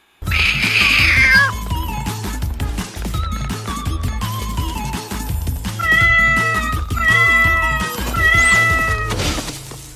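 A cartoon cat meows and yowls in a run of loud, drawn-out, wavering cries, close and prominent over busy background music and effects.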